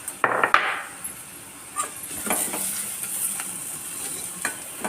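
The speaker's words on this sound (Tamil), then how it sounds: "இது நல்லா வதங்கட்டும்." Semiya kichadi sizzles softly in a pan while a utensil stirs and scrapes through it, giving a few clacks early on over a faint, continuous frying hiss.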